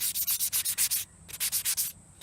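Wet and dry sandpaper rubbing on a small stone for a necklace, quick rhythmic back-and-forth strokes in two bursts of about ten each with a short pause between, close and alone.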